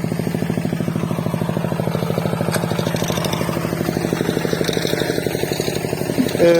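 The engine of a small tractor pulling a potato digger runs at a steady, rapid chugging beat with clattering, close and loud in a potato field, without talk.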